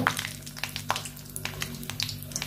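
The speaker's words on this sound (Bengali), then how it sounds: "ভালো করে নেড়ে চেড়ে নেবো শুকনো লঙ্কা, কালো জিরেটা, কালো সর্ষেটা।" Dried chili, black cumin and black mustard seeds sizzle in hot oil, with a steady close frying hiss broken by a few scraping stirs and small pops, and no voices.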